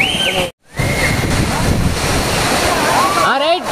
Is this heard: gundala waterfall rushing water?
yes